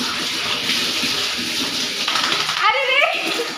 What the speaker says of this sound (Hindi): देखो पानी चल रही